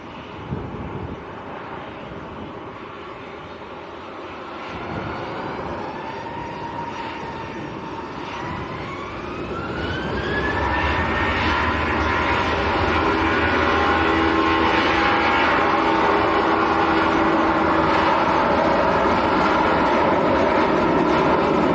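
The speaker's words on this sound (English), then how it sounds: "Brussels Airlines is next to land, an A319." A Brussels Airlines Airbus A319 comes in to land at Manchester Airport, its engine roar steadily swelling with a rising whine, growing loud and close as it passes, with wind rumble throughout.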